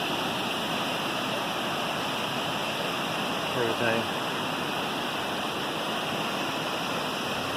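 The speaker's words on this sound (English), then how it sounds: "There's a lot more waterfalls here" A waterfall in a mountain gorge in North Georgia produces a constant close hiss and rush of falling water, with a brief word spoken over it partway through.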